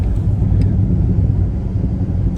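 A Mercedes-Benz ML63 AMG engine gives a deep, heavy, steady rumble close by, loud and unbroken with no voices.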